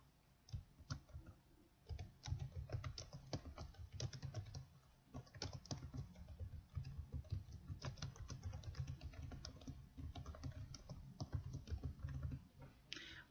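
Typing on a computer keyboard, keys clicking in a steady, fairly quick patter throughout, close and moderately quiet, with no voices.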